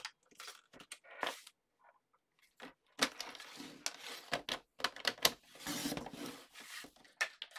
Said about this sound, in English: I just need to trim it down to the size that I want.